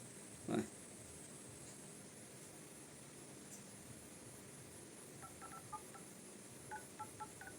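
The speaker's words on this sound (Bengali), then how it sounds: "তামিমের একটা ফোন দিয" A mobile phone being dialed for a call: a few faint, short keypad beeps near the end, quiet under a steady background hiss, with one brief thump earlier.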